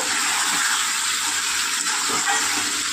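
Potatoes and pointed gourd sautéing in a pan, a steady broadband sizzle and hiss that holds constant throughout, loud and close with no talking.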